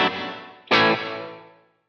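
A guitar chord through a vintage 1980s Yamaha multi-effects processor decays, then a fresh strike blooms into a dense reverb tail built from quick repeats, fading out over about a second.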